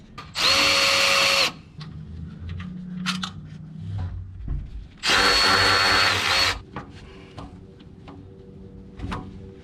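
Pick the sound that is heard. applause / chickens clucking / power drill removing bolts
power drill removing bolts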